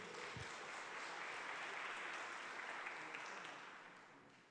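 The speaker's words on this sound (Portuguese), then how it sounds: "Vamos aplaudir o Senhor bem forte." A church congregation at a family worship service breaks into sustained, steady applause, a broad wash of clapping that tapers off at the close.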